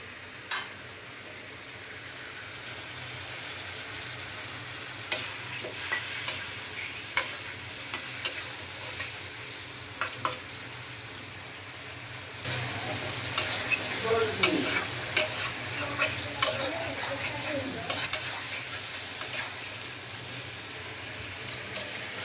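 Spice paste with chilli and coriander powder and chopped tomatoes sautéed in a pan, a soft continuous sizzle broken by regular sharp scrapes and knocks of the spatula, nearby and without speech.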